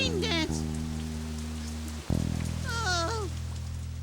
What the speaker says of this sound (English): Rain coming, yay!